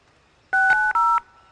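Telephone keypad buttons pressed in quick succession, a few clear, loud dual-tone beeps, each brief and close, set against near silence.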